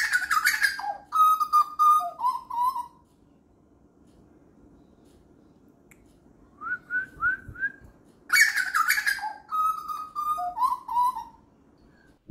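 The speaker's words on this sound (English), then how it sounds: "my little butcher bird friends" Butcherbird calls heard from a played recording: clear whistled, melodic phrases in two bursts separated by a quiet gap, with a low steady hum underneath and no talking.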